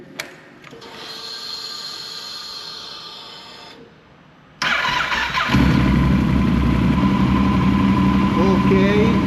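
A car engine is started for the first time inside a bunker. A quiet stretch gives way to a sudden loud catch, and the engine then settles into a steady, strong running roar that fills the enclosed space.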